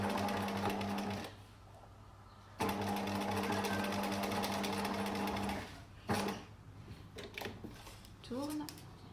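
A sewing machine set to straight stitch at length about 3 stitches a fabric face mask in fast steady runs, pausing briefly between seams, close and clear with soft handling noises.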